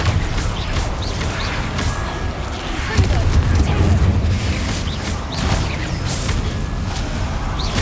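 Confringo explosion spells cast repeatedly in the Hogwarts Legacy video game, a dense run of loud, low booming blasts and crashes rolling over one another, with a voice speaking over the barrage.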